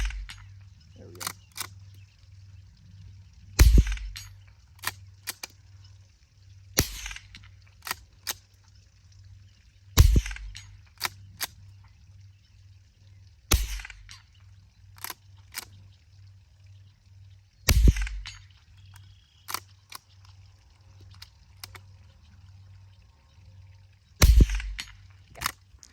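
Shots from a Browning T-Bolt .22 LR rifle, five sharp cracks spaced a few seconds apart against a quiet outdoor background, each with a short tail.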